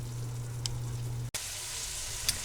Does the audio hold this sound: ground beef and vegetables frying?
yes